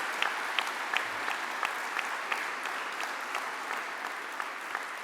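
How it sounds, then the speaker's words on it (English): Sustained crowd applause for finalists and winners at the 2021 Premier's Excellence Awards ceremony, a steady hall-filling patter of many hands with a few sharper claps standing out, moderately distant and without talk. "Can you please give a rousing applause for all of the finalists and winners today?"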